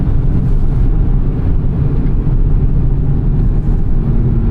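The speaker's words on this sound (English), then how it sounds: "Getting that nice induction note." A 2024 Nissan Z engine under a full-throttle pull toward the red line, heard from inside the cabin as a loud, steady low drone with rumbling induction sound and no voices.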